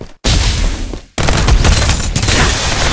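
Rapid bursts of loud gunfire in the battle royale shooter Farlight 84, dense and sustained with a brief gap near the start, no talk.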